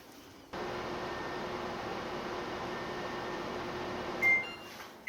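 A microwave oven hums steadily for several seconds with a constant whirring drone while it cooks rice cake dough for strawberry mochi, and a short electronic beep sounds near the end.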